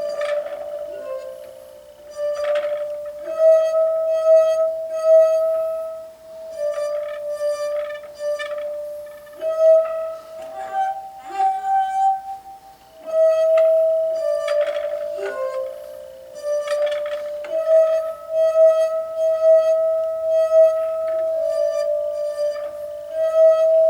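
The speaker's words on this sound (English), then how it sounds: "Didn't think you can play music on some glasses." Tuned drinking glasses, partly filled with water, struck one note at a time to play "Mary Had a Little Lamb", clear ringing pitched tones in an even rhythm, close and bright with lingering resonance.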